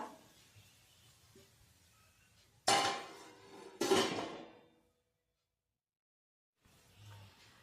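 A metal lid set on a pan of chapati churma in a home kitchen: two sharp clanging knocks about a second apart, each ringing briefly before fading to silence, with faint kitchen noise around them.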